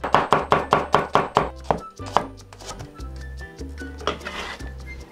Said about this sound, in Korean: 양파는 슬라이스 해주세요.